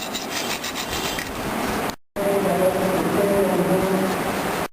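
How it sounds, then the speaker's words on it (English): A hand file rasps back and forth over a metal cable lug during 11 kV cable termination work, with close, steady scraping strokes, a brief pause, then more continuous filing. "the bars should be removed by using the file"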